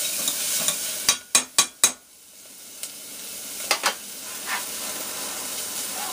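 Several sharp scrapes of a utensil stirring green beans and potato in a pan with bacon grease, a quick cluster of four strokes followed by a few softer ones over a quiet sizzle.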